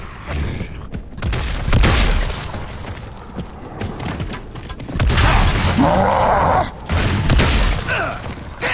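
Gears of War 3 multiplayer weapon reload mixed with loud in-game battle noise, booms and clattering mechanical gunfire bursts, dense and continuous across the clip with no voices.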